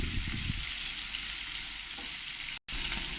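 Koi fish frying in hot oil in a pan, a dense, steady sizzle and crackle that runs loud and continuous throughout, with one brief dropout near the end.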